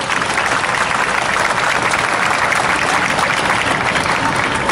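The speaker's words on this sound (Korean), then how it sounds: "다시 한번 2학년 3반 엄마 아빠들과 그리고 대표 발언해주신 윤민 엄마를 위해서 큰 박수" A large crowd applauds at a Sewol ferry disaster memorial rally marking 500 days, a continuous loud wash of clapping that holds steady throughout with no pauses.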